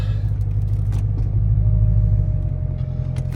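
A 2022 Dodge Challenger SRT Hellcat Redeye Jailbreak, wrecked with front-end damage at 5,000 miles, idles with a steady, deep, loud engine rumble, close and continuous throughout with no talking.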